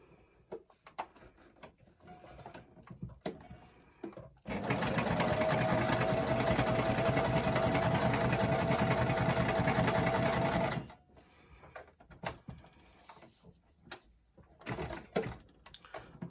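A sewing machine runs in one steady, fast, humming burst of about six seconds, with quiet clicks and handling noises before and after.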